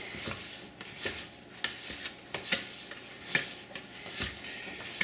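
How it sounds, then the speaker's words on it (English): A dough scraper works a sticky, floured sourdough into a ball on a counter, making soft intermittent scraping and rubbing strokes with occasional light taps, close and fairly quiet. "we'll turn it over, and we will use our scraper to scrape it into a ball"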